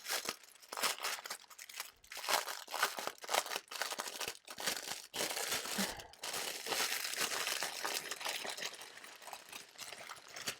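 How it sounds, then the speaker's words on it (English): Plastic packaging crinkles and tears while diamond painting drill bags are unwrapped, a dense run of close, bursty rustling and crackling with brief pauses, no talking. "Sorry for all the crinkling."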